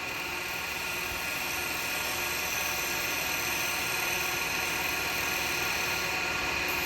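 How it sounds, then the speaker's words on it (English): A spalted wood vase turns on a lathe under a spindle gouge, giving a steady, even whirring hiss with a high ringing tone. The sound is faint but continuous and carries on without a break. "I'm doing it with a spindle gouge because I just want to."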